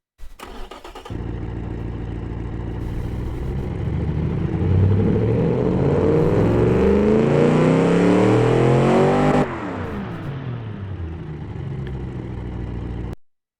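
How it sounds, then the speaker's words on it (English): A loud V8 engine in the game Automation starts and revs hard, the roar rising and holding steady before dropping back to a rough idle, with no talking. "That is a very loud, very angry sounding engine."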